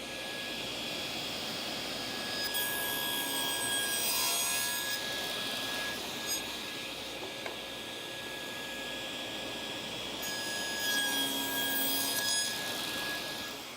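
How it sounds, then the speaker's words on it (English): A table saw cuts a slot into a wooden workpiece, its steady motor whine swelling twice as the blade bites into the wood, the cuts heard alone with no voices. "when you're pushing this across the saw table, you're going to have a much stabler workpiece"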